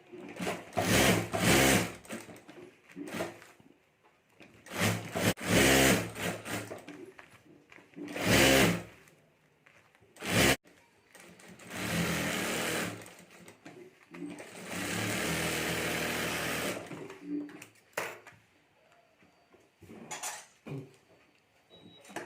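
A sewing machine stitches lining around the edges of a potli bag in repeated short, close bursts of rapid whirring, with longer sustained runs midway and small clicks between, no voices.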